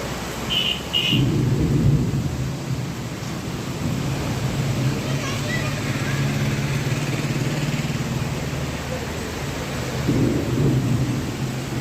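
A windstorm with thunder in Andhra Pradesh produces a heavy, continuous low roar and rumble with gusting noise throughout, swelling near the start and again toward the end; a voice can be heard faintly underneath.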